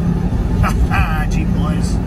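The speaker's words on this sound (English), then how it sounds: "Here comes Mr. Jeep." A Jeep drives past on a snowy road, heard as a constant low road and engine rumble from start to end, with a few brief higher swishes layered over it.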